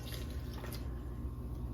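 Water from a tap splashes and trickles into a bowl for a white cake mix, a short steady pour with faint dripping over a low kitchen hum.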